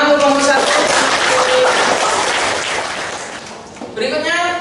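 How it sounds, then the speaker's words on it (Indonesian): Students applaud a group presentation in a high school classroom, with dense, close clapping for a few seconds before voices return. "Tepuk tangan untuk kelompok 1."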